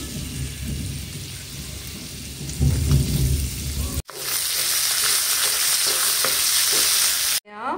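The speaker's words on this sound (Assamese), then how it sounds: "একেবাৰে হালকা ফুলকাকে মই এইখিনি হেৰি কৰি ল'ম, বৰ বিশেষ ভাজিব নালাগে" Vegetables for a Tibetan chicken thukpa are lightly stir-fried in a pan, giving a loud, continuous sizzle with scraping stirs, broken by two abrupt cuts.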